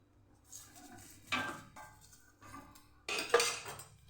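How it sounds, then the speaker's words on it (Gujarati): An aloo paratha is turned and oiled on a pan, with a few short metallic scrapes and clinks from a spatula, in separate bursts near the microphone, and nobody speaking. "પરોઠાની આપણે સાઈડ ચેન્જ કરી લઈશું આપણે તેલ લગાવી દઈશું"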